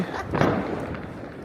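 New Year's Eve fireworks in the streets of Germany, with a dull booming burst near the start that rolls into a busy crackling wash of street noise, steady and fairly close throughout.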